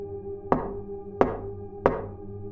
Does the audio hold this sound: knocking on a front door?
yes